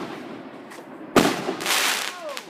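Consumer fireworks go off close by on a residential street in Michigan, one sharp loud bang followed by crackling bursts and a whistling tail, with a faint voice before the blast.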